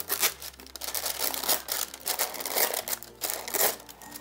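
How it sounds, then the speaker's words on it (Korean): Parchment paper being cut into sheets slightly wider than a block of butter for storage, giving continuous close crinkling and rustling with sharp snipping and tearing bursts, no talking. "버터 넓이보다도 약간 크게끔 해갖고 종이 호일을 잘라줘야 됩니다"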